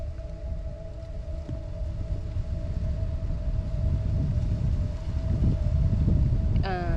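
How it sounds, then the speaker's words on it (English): Heavy wind outdoors on Zzyzx Road, a continuous low roar and buffeting on the microphone that builds gradually, with a faint steady tone above it and a brief chirping sound near the end. "This wind is heavy right now."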